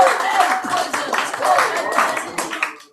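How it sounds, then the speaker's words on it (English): Live audience at a weekly poetry event in a cafe giving a poet a round of applause, a close, fairly loud burst of clapping and cheering that fades out at the end. "have a big old round of applause for James"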